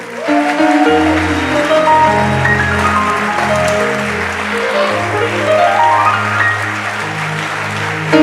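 A church congregation acclaims with sustained applause and cheering, layered over loud, steady organ or keyboard chords that carry through the whole stretch, with no talk.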